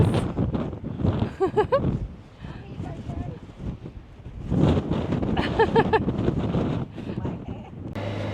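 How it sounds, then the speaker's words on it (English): Strong wind buffets the microphone with a steady low roar throughout, while people talk over it in gusty bursts. "I don't know if you can hear it, but it's very windy."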